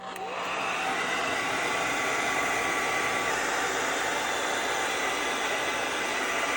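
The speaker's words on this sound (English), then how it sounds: "I'm going to use my blow dryer to speed it up because I'm done with it soaking." A blow dryer on its warm setting drying a sheet of paper roars steadily and close, with a constant broadband airy whoosh that starts abruptly and holds without a break.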